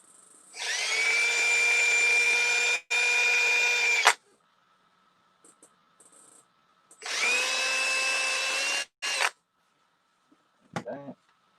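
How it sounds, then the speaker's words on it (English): A power drill whines loudly drilling holes in wood, two sustained bursts of a few seconds each separated by a pause, with a brief faint voice at the end. "let's drill my entry holes now."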